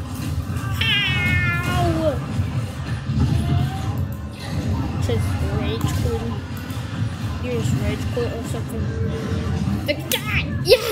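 A cat in a bowling paradise game gives several clear, rising meows over a steady background hubbub, with a louder yowl near the start.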